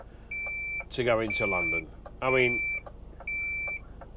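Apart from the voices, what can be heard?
side scan sonar beeping on a boat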